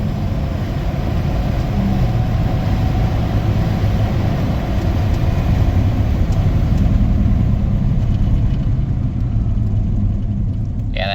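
A 1990 Dodge Grand Caravan LE cruising toward 55 mph with a sticking front left brake, giving a steady, loud low road rumble and drone that holds unbroken throughout, with no talk.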